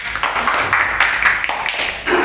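A small group of students in a classroom clapping for their group, a brisk burst of close, fairly loud hand claps with uneven rhythm.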